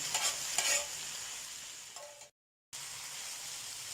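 Masala and chicken leg pieces roasting on a tawa for restaurant-style Lahori leg BBQ, a soft steady sizzle with a few stirring scrapes early on, then a brief cut to silence before the faint hiss resumes.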